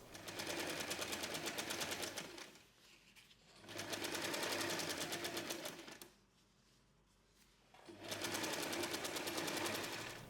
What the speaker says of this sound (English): Sew around the entire bag, but leave an opening on the lining fabric